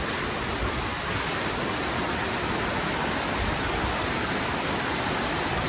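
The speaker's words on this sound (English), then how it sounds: "He is passing through by the waterfall." A large Himalayan waterfall in Nepal roars as a loud, steady, close wash of rushing water that fills the whole scene without a break.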